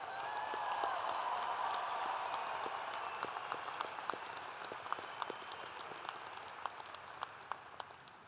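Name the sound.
applause for graduates at commencement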